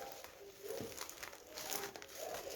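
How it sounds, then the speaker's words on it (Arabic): A small plastic bag crinkles close by, its soft rustling and rubbing going on steadily at a moderate level for a couple of seconds. "رح جيب كيس صغير مثل ما شايفين"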